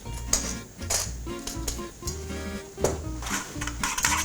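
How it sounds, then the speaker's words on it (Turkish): Yogurt seasoned with salt and black pepper is stirred in a bowl with a utensil. Irregular clinks and scrapes of metal against the dish come close and fairly soft, with brief pauses between strokes. "İyice karıştırıyorum."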